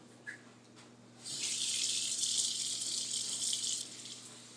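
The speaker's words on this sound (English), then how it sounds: "Gonna rinse it off." Tap water runs steadily into a kitchen sink as fruit is rinsed under it, a bright continuous hiss starting abruptly after a brief quiet moment and stopping near the end.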